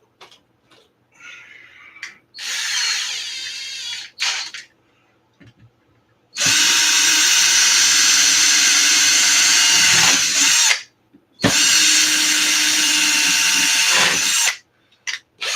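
A power drill drives long screws into an ARRMA Notorious V6 6S RC car during repairs. There is one short whir, then two loud sustained runs of several seconds each, separated by brief silent pauses.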